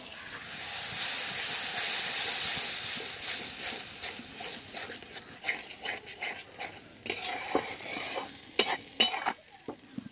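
Tomato paste and spices sizzle with chicken in a pan: an even hiss of steam at first, then broken by bursts of spoon scraping and clattering against the pan, close up and with no talking.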